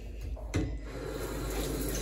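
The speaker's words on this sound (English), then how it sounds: "I'm just gonna give her a quick shower." Tap water sprays over a potted plant as a shower, starting with a sudden splash and then hissing evenly and fairly close, with no talking.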